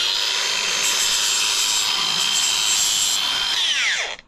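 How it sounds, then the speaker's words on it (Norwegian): An angle grinder fitted with a sanding disc runs at a steady, loud, high-pitched whine while it works, then cuts off and winds down in a falling tone, with no voices. "så kommer jeg hit med en vinkelsliper med pusseskive"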